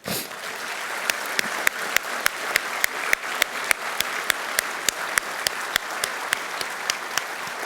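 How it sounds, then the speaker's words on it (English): A Marine Corps anniversary audience gives a round of applause, a loud sustained wash of many hands with a few sharp louder claps cutting through at a steady, almost regular beat. "Let's give these ladies a round of applause."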